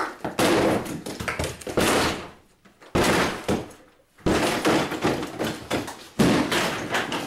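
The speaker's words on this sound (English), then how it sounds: "Open the door!" A door is yanked open and slammed in a game intro, several heavy thuds and bangs in bursts with brief silent gaps, loud and close with no talking.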